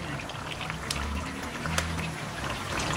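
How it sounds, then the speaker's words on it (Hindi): Cashew and almond paste pours into chicken korma sizzling in oil in a pan, producing a steady, close bubbling and frying hiss with a few sharp crackles. "अब जो हमने काजू और बादाम का पानी डालकर पेस्ट तैयार किया है ये डालेंगे"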